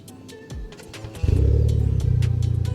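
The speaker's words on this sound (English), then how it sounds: "That's what it sounds like when the car is just running." A 2020 Honda Accord fitted with a Rev 9 exhaust, heard close, with a low burbling engine tone that steps up around midway into a steady, loud throbbing drone.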